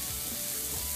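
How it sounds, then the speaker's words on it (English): Mushrooms sizzle on a grill beside onions, a steady close hiss with faint crackle throughout a short moment, no voices. "So I have my mushroom grilling on one side of the grill."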